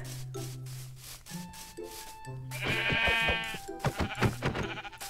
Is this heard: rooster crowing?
no